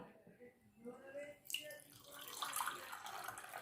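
Plain water poured into a flour and sugar batter for Thai deep-fried dough sticks, a brief splashing trickle that rises midway and runs on under ongoing nearby talk.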